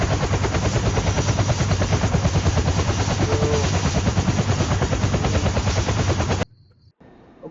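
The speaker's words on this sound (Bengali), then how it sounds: "আমি এদিক দিয়ে হেলিকপ্টার নিয়ে যাবো।" A helicopter in the Roblox prison-escape game thrums with rapid, loud rotor chopping for several seconds, then cuts off abruptly to near silence.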